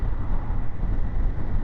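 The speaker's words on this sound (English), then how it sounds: "It's really, really windy today. Like really windy." Strong gusty wind on an open moor buffeting a motorcycle rider's microphone, a loud continuous low roar and rumble with no letup.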